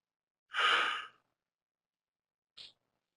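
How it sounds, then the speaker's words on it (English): A person yawns, letting out one long, breathy exhale up close in a quiet room, followed by a couple of short, soft breaths. "I'm yawning left and right"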